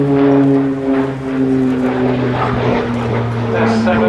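Short Tucano T1 turboprop trainer of the RAF flying a display at the RIAT airshow, its loud steady propeller drone with shifting engine tones throughout, an announcer talking over it.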